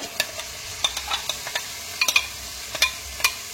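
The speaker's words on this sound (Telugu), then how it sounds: "ఇప్పుడు ఈ మసాలా పేస్ట్ దీంట్లో వేసుకోవాలన్నమాట." Masala paste is stirred into fried tomato for a crab curry, giving sparse spoon scrapes and clicks over a faint, soft sizzle in a quiet pan. No voices.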